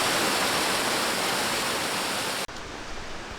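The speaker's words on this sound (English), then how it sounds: "the excess water dumps into a culvert" Excess water from a dammed pool pours into a roadside culvert at a state park, a steady loud broadband rush that cuts off abruptly near the end into a quieter trickle.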